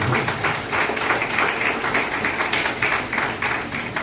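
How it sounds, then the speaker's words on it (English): Sustained applause from an audience at a laboratory complex commissioning ceremony, a busy wash of many hands clapping at an even level throughout. "Please a round of applause for him."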